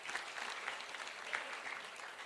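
Dense, steady applause from a large crowd at a church gathering, heard from a distance at moderate level and continuing for its whole length.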